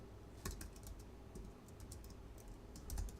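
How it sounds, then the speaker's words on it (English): Fairly quiet typing on a computer keyboard while entering a blog post title, with bursts of light key clicks and brief pauses. "So I'm going to type in"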